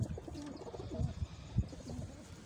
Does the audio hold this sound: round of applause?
no